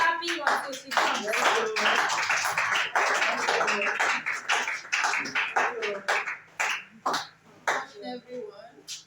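A school staff seminar audience keeps clapping, dense overlapping claps that thin into scattered individual slaps toward the end, with voices talking over them.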